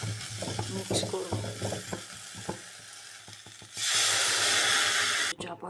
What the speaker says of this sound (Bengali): একটু হলুদ দেব, একটু নেড়ে নেবো।